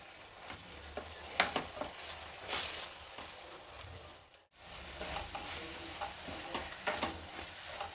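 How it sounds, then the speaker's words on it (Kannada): Poha is being fried and stirred in a pan on a low flame after salt is added. A steady, close sizzle runs under repeated scraping strokes of the spoon, with a brief pause near the middle and no talking. "ಸಣ್ಣ ಉರಿ ಇಟ್ಕೊಂಡು ಇದನ್ನು ಹುರಿಬೇಕು."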